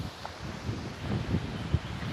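Outdoors, wind buffets a microphone with low rumbling gusts and a hiss, steady with a few louder thumps, no voices.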